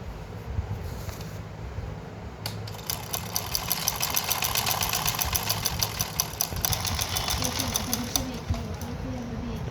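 A sewing machine stitches a pajama seam, its rapid, steady mechanical chatter building and holding at a moderate level over a low hum, close by, with a few soft handling bumps.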